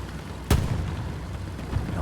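A single heavy boom from an Allied medium tank's main gun in Hell Let Loose, sharp and loud at the start and then a short rumbling decay under the ongoing battlefield ambience.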